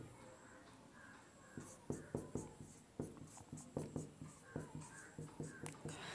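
Chemical formulas are written by hand, giving a close, quiet series of rhythmic pen or chalk strokes in short repeated scratches, with faint talk in the background.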